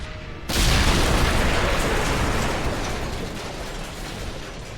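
A grenade explodes in the video game Medal of Honor Airborne. The blast is sudden and loud, then a broad rumble slowly fades over several seconds.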